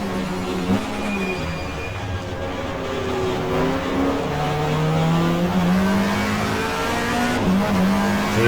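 A little Peugeot race car in the 1994 GTR2 Australian Manufacturers Championship at Mallala, its engine droning and rising in pitch through the gears, loud and steady, with other cars audible around it.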